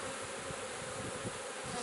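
Honey bees buzzing densely around an open hive while smoke is puffed over the top bars, a continuous close, even hum with no talking.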